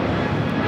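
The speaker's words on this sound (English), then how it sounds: "Brand new A321 Neo." Airbus A321neo jet airliner at LAX airport, a steady broadband engine roar filling a brief moment at close range with no voices.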